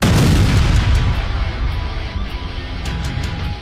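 Explosion from a powerful demon attack in a Dragon Ball animation, Cooler taking the blast: a loud, rumbling boom that opens at full force and keeps roaring through its long decay, with no voices.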